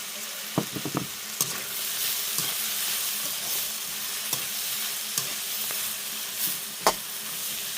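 Carrot, potato and drumstick leaves sizzle steadily in a hot pan, close and even, with sharp clinks of a spoon stirring and scraping at scattered moments.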